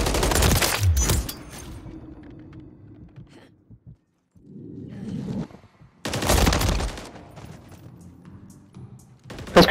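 Submachine gun fire in a video game: loud rapid bursts at the start and again near the end, with quieter shuffling and movement sounds between them.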